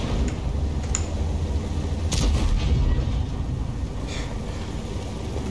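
Tank cannon shots fire during a World of Tanks match, with a sharp blast near the two-second mark and a fainter one around four seconds over a steady engine rumble, and no talking.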